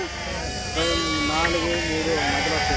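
Sheep bleat loudly and close by at the Monday sheep market in Macharla. Drawn-out, wavering cries rise over a busy murmur of market noise.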